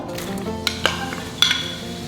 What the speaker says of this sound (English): It's gonna sizzle pretty loudly, so be careful.